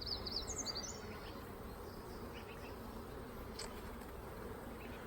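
Honey bees buzz in an open hive during an inspection, a soft, steady drone close by, with a few faint bird chirps at the start.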